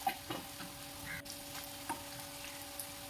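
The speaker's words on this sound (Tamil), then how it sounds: "கருவேப்பிலை, இதெல்லாமே கலர் சேஞ்ச் ஆகிற வரைக்கும் வறுத்துக்கலாம்." Curry leaves and spices roast in a pan with a soft, steady sizzle broken by light scraping stirs, fairly quiet and with no talking.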